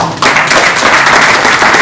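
Loud, dense audience applause at a FinTech cybersecurity and fraud summit, welcoming the central bank governor's representative, starting abruptly after a brief quiet moment and holding steady and close.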